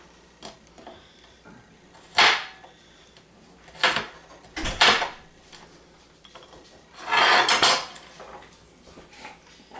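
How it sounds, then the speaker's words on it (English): Knife work on a couple of clean garlic cloves on a board, several distinct close knocks and scraping strokes at irregular intervals over a quiet background, without talk. "So I have here a couple clean cloves of garlic. I'm going to chop up just a little bit."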